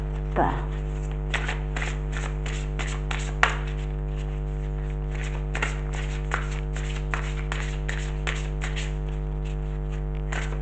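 Mudra oracle cards being shuffled by hand, a rapid run of soft papery riffles and snaps repeating across the clip over a steady low electrical hum.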